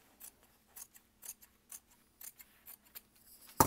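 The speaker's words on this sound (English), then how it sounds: "you're going to trim them up to make them even" Scissors snip through fabric pieces for a bag being trimmed to even length, giving about a dozen short, crisp cuts in an uneven rhythm, close and fairly quiet, with no talking.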